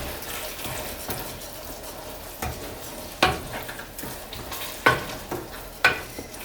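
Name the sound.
stirring fideo vermicelli noodles with shrimp in a pan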